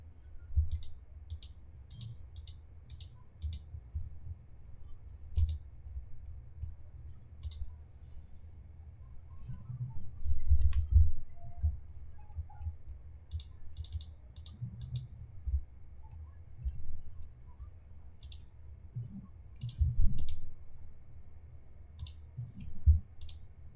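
A computer mouse clicks sharply and crisply, sometimes singly and sometimes in quick pairs, over a faint low room hum with no voices.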